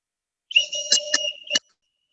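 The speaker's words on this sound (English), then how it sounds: "let me blow the whistle." A whistle blown during a children's classroom game, giving one long shrill blast broken into several short pulses, loud and close in an otherwise quiet room.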